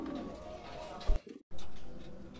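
Domestic pigeons being paired give a low, throaty coo near the start, close by, followed by a brief break and then a steady background hum with some faint talking.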